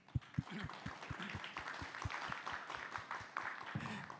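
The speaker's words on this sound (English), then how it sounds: "A round of applause, everyone, for our friends on stage." Audience at a REALink conversation event claps, fairly faint and scattered, with low rhythmic thumps running beneath the clapping.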